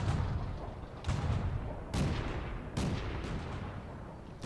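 Heavy cannon shots in a World of Tanks battle, four booming reports spaced about a second apart, each with a short rumbling decay over a steady low background, fairly close and loud.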